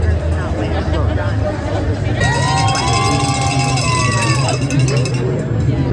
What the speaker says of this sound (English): Oh, give me a cheer.